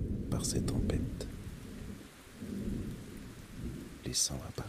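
Thunderstorm with rain: a low rolling rumble of thunder over a constant patter of falling rain, fairly loud and near, with a few sharper bursts toward the end.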